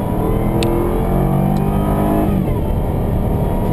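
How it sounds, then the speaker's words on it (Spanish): A Jaguar XKR's engine revs and pulls hard under steady acceleration onto a highway, loud and close, with a continuous rising drone and road rumble. "voy a incorporarme en autopista para que veáis el par motor y lo lineal que acelera este coche"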